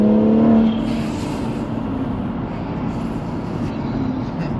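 A modified Stage 2+ BMW M140i with a manual gearbox accelerates hard on the road, its engine roaring loudly and steadily from inside the cabin as the pitch holds and builds, with no voices over it.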